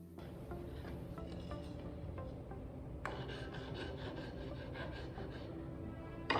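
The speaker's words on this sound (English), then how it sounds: "now I've been filing so long" Steady, continuous rasping of a hand file scraping back and forth across a surface, close up and unbroken, with no talking.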